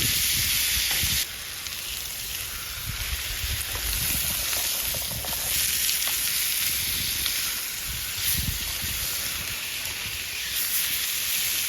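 Ribeye steaks seasoned with Montreal steak seasoning fry in ghee at a campsite, giving a steady loud sizzle and hiss with small crackles and bumps throughout, alone without talk.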